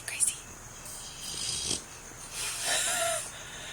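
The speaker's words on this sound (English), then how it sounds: "Snoring." A sleeping dog snores softly during a dream, with faint irregular snorts and breaths in a quiet room while people talk nearby.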